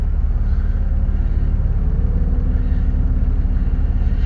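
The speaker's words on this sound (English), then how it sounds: "I love the sound of this car" Loud modded Toyota Camry engine idling and rumbling steadily, a deep low throb that holds continuously and close without any voices.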